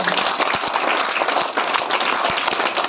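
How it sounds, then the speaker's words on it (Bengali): Loud, continuous clapping from a crowd at a company business-opportunity meeting in Bangladesh, a dense steady patter of many hands filling the room for about three seconds. "এটা জোরে তালি দিয়ে আমরা"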